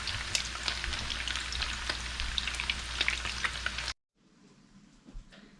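Pork giniling omelette frying in a pan, a close, steady sizzle with crackling pops for about four seconds, then an abrupt cut to much quieter faint frying.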